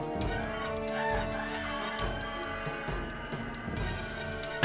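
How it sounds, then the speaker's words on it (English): A rooster crows loudly over a dense backdrop of music and other layered sounds, the call drawn out across several seconds without speech. "there is one other way to beat them, and that's via a good old-fashioned rooster call."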